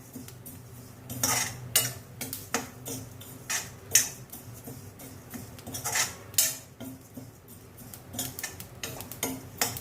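A spoon scrapes and clinks against a pan as black, yellow and split mustard seeds are dry-roasted and stirred for pickle masala, giving irregular close metallic ticks and rattles, some louder, with no talking.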